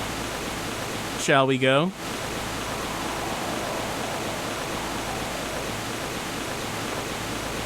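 A waterfall in the Mizzurna Falls video game rushes as a steady, broad roar throughout, with a short spoken line near the start.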